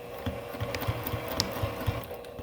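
A sewing machine stitches back and forth through quilt binding, giving short mechanical bursts of rapid needle thumps with small clicks between them. It is fairly close and quiet, with no voices.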